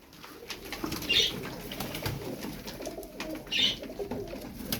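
Pigeons coo softly in a loft, low throaty calls rising twice amid rustling and faint chirps, fairly close.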